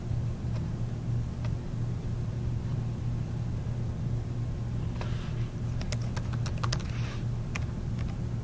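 Keys clatter on a computer keyboard in sparse, irregular taps over a constant low hum, with a quick cluster of keystrokes near the end.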